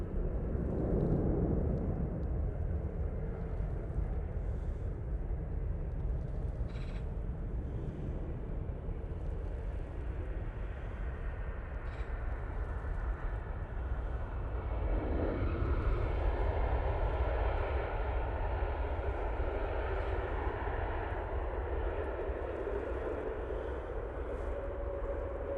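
A Swiss Airbus A321neo jet at Manchester Airport gives off a continuous, moderately loud low roar with swelling rumble and a brief rise midway, sustained for the whole stretch with no talking.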